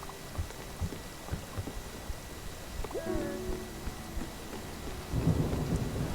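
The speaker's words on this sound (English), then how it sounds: "Oh, it's thunderstorm time?" Thunderstorm in the video game Spiritfarer: a steady wash of rain with low rolling thunder swelling loudly near the end, over faint game music.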